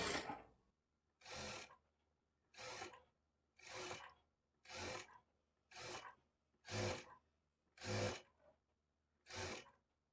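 A sewing machine stitches thread piping in short, evenly spaced bursts of whirring, about nine runs each lasting under a second, separated by brief quiet pauses.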